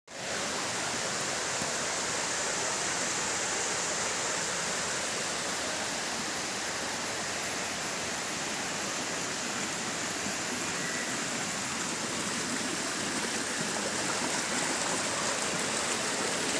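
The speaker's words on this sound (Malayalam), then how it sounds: "ഇത് ചേലക്കര പഞ്ചായത്തിലെ കളപ്പാറ പൂളക്കുണ്ട് വെള്ളച്ചാട്ടത്തിലാണ് ഞാൻ വന്നത്" Kalappara Poolakkund waterfall in Chelakkara panchayat pours in a steady, unbroken roar of rushing water, loud and close, with no voices over it.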